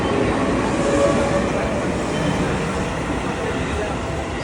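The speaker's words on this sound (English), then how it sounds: "Getting off the train in this little station." Steady rumble of a train at Shimo-Ochiai station in Tokyo, one stop from Takadanobaba, with a broad continuous roar and no distinct events, loud and close throughout.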